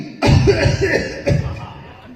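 Two harsh imitated coughs from a phone caller tune in quick succession, close and loud, the second slightly weaker, fading into quiet.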